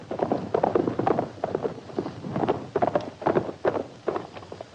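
Horse hooves approaching on the ground in an old Western setting, irregular clopping beats in uneven clusters, fairly close and moderately loud, with no speech.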